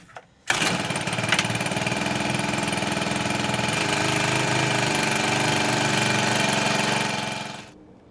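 A garden tiller engine catches abruptly and runs at a steady, loud, rattling drone for about seven seconds before cutting off, heard close with no talking.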